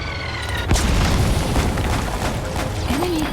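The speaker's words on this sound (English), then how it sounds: "Who's firing mortars?" A heavy mortar blast in the Metal Gear Solid V video game lands with a single loud boom, then a dense, sustained rumble of debris and noise. A brief whistling tone rises near the end.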